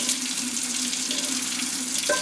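Hot water runs steadily from a kitchen tap over cooked ground beef being rinsed of grease. The flow is a loud, even hiss throughout with a brief clink near the end.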